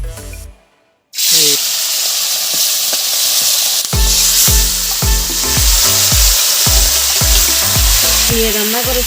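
Duck curry with radish hits a hot kadai with a loud, steady sizzle, broken by a regular rhythm of spoon scrapes and stirs against the pan, close and without any talking.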